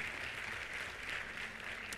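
Applause from a church congregation praising God, a steady even wash of clapping at moderate distance with no talk over it.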